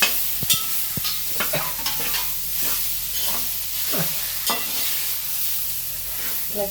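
Chopped plantain being stirred with coconut and onion in a hot pan, a spoon scraping and clacking in irregular strokes over a steady soft sizzle.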